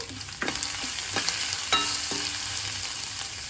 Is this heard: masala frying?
yes